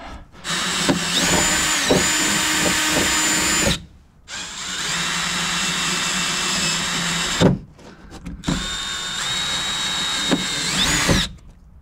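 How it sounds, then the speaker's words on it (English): A rivet tool sets rivets on a Jeep body, giving three long, loud whirring bursts with short gaps between them and sharp snaps where the rivets break. It sounds close up, and no one speaks. "this tool is breaking all my rivets"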